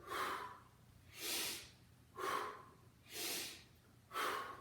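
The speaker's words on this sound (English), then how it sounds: "You breathe in, out." Steady breathing during a squat workout, five slow breaths in an even rhythm of about one per second, each a broad airy rush, close and alone with no talk.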